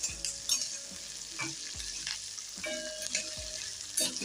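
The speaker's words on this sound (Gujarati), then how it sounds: "આપણે મરચાંને બે મિનિટ આ રીતના હલાવીને સરસ રીતના તળી લેવાના છે" Green chillies fry in a pan while a spoon stirs them. Soft, continuous sizzling is broken by several scraping strokes, close and quiet, with no talking.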